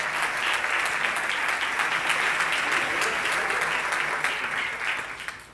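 Applause from an audience at a Spanish tech employment event, sustained clapping that stays loud and even for about five seconds before tapering off at the end.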